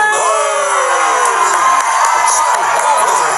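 Radio studio audience cheering and whooping for a DJ act, loud shouts and yells layered in a dense, continuous roar from start to finish.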